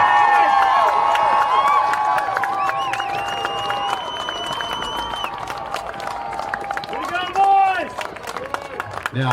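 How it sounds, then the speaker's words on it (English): Applause and cheering from a crowd at a Missouri state high school third-place game honoring the Fort Zumwalt West Jaguars, loud and sustained, mixed with a PA announcer's voice and tonal music or horns throughout. "let's give a big round of applause to the Fort Zumwalt West Jaguars"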